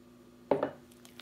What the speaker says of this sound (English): I'm going to add 2 eggs.